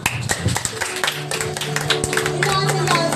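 A church congregation at a Sunday service claps together in a dense burst of hand claps, close and lively, mixed with a murmur of voices and some background music.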